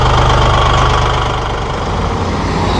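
Massey Ferguson 1740M eHydro compact tractor with deluxe cab idling, a steady low engine rumble with a faint knocking pulse, close and continuous with no talk.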